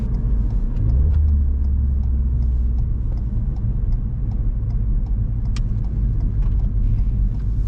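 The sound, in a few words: car engine revving during heel-and-toe downshift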